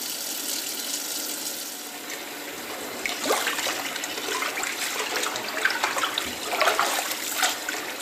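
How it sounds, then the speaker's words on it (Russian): Cold water pours steadily from a tap into a sink, splashing and gurgling unevenly as it hits a carp in the basin. "Рыбу я выложил в мойку. Теперь заливаем ее холодной водой"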